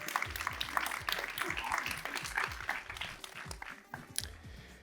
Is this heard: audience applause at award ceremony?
yes